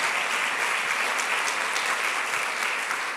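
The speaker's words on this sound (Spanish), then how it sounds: "¿Qué tal si le damos un aplauso al Señor?" A church congregation applauds together in a steady, dense wash of clapping that holds at an even level for the whole stretch, with no voice rising above it.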